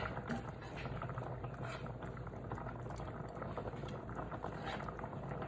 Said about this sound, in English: Pop's potatoes boiling away.